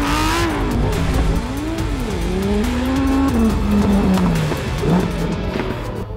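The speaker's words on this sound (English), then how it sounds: "The Lamborghini Huracan Storato." A Lamborghini Huracan Sterrato supercar engine revs loudly and up close, its pitch rising and falling through several sweeping revs, with a brief tire squeal, no talking.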